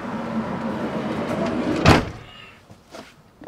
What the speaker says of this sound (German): Wenn du vorne mal die Tür mal schließt, mach mal zu.